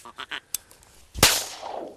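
Several short duck quacks sound in quick succession during a duck hunt in Argentina, followed by a sharp, loud gunshot that rings out and decays.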